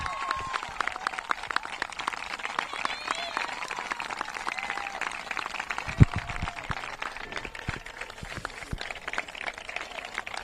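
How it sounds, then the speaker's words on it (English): Audience applause at a cricket ceremony for a long-serving official, a steady patter of many hands clapping across the whole stretch with crowd murmur beneath and one sharp louder clap midway. "please give a huge round of applause to Neil Brook for his extreme long service"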